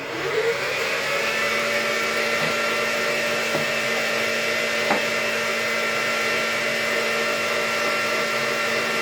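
An electric stand mixer whisks genoise sponge batter at full speed, a loud steady motor whine and whirring hum that holds constant throughout, close by with no talking.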